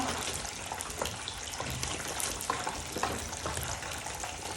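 Fish stirred in a cooking pot bubbles and sizzles in a continuous wet hiss, with soft stirring scrapes mixed in and no voices.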